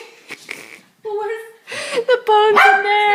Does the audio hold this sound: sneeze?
no